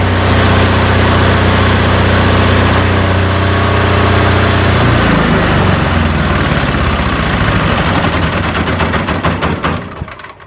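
A diesel generator runs loud and close, its steady low engine drone and rapid mechanical rattle holding throughout before the sound fades away at the end, with no voices.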